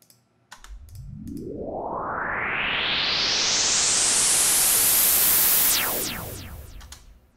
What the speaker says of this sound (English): So that's a noise riser.